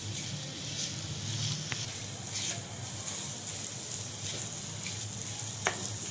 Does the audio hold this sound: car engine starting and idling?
no